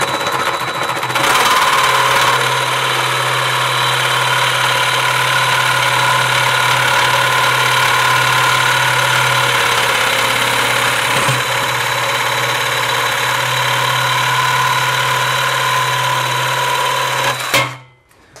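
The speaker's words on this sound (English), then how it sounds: "what I'm gonna do now is I'm just gonna get in here and radius this corner on this aluminum" DeWalt jigsaw fitted with a DW3755H blade radiusing the corner of clamped aluminum, a loud steady buzzing drone with faint scraping that runs nonstop for about sixteen seconds, then stops abruptly.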